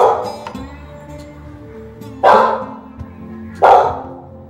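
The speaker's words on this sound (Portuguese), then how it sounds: "Aí de noite, a cachorra começa a latir na escada." A female dog barks on a staircase at night, two loud sharp barks separated by a pause, with faint yips and a quiet room background.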